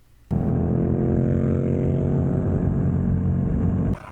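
A parallel-twin motorcycle engine runs in a loud, continuous low rumble that starts suddenly, holds an even drone for a few seconds and then stops.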